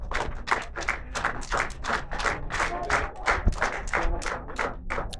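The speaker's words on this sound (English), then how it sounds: "A big round of applause for Mr." Steady round of hand clapping from an audience at an awards presentation during a women's T20 cricket championship event, dense and sustained with crowd murmur mixed in.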